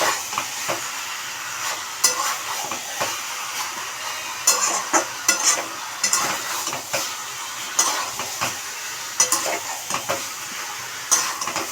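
Goat meat sizzles softly in a pan while a spoon scrapes and stirs it, with intermittent metallic clinks and taps against the pan at an uneven rhythm over a steady low hiss of frying.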